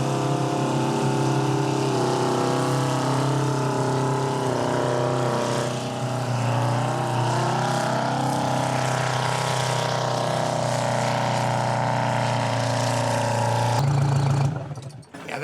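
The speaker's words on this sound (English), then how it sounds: "Powered by a 9-litre, 2-stroke turbocharged Detroit, delivering 318 horsepower." Homemade tractor with a 9-litre two-stroke turbocharged Detroit diesel making 318 horsepower, idling and running with a steady deep drone and shifting tones, close and loud before fading at the end.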